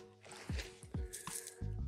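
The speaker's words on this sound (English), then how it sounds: "I'll pour the dirty water in this glass over here so you can see how dirty is it." Dirty water poured from a container into a glass, giving a few wet splashes and trickling drips that rise and fall in short bursts, fairly quiet and close, with no talking.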